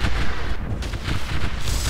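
Explosions and weapons fire during a space battle in the strategy game StarDrive, loud dense booming and rumbling blasts rolling on continuously without any voices.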